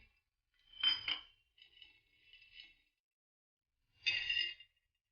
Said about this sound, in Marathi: आपण शेंगदाणे भाजून घेऊ।